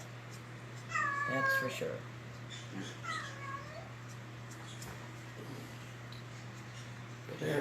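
Rescued cats meow a few times, close and fairly loud, in short bursts over people chatting.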